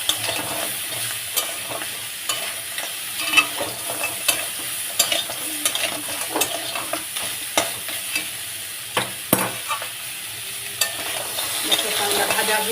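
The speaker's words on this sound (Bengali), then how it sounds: "এটা ভালো করে ভেজে নেব" Crab pieces fry with turmeric and salt in a hot pan, a steady sizzle broken by repeated scraping and clacking as a spoon stirs them, close and fairly loud with no talking.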